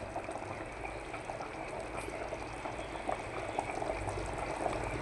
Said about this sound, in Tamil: இப்போ கறி ரெடி ஆயிடுச்சு இது கொஞ்சம் நேரம் சிம்மில் வச்சு கிளறி கிளறி விட்டுட்ருக்கணும்